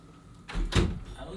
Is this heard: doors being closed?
yes